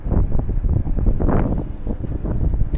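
Wind buffets a smartphone microphone filming from a high vantage point in amateur footage, a steady, loud low rumble with constant gusty fluttering that lasts throughout and cuts off abruptly at the end.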